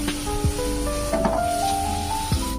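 Ginger garlic paste sizzling in hot oil over cooked onion paste, a steady close frying hiss with small spatters and light clinks of a spoon against the pan.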